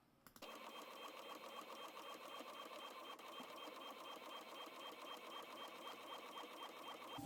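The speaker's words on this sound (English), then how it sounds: "now I am just going to click print and it is going to go over to the printer" An office printer runs quickly through a print job in sped-up playback, giving a steady mechanical whirring with fine rapid rhythmic clatter that holds evenly throughout, fairly quiet and without talk.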